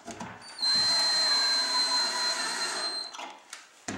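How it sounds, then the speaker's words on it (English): A power drill driving screws into a wooden assembly whirs steadily for a couple of seconds with a high whine, then stops, with short clicks and handling noises before and after. "So now I'm just going to put this together using this drill"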